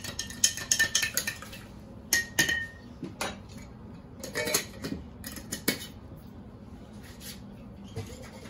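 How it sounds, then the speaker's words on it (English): A utensil stirs aloe into a moonshine-based hand sanitizer mixture, making clinking, scraping knocks against the container in irregular bursts, close and moderately loud. "And you just stir that up."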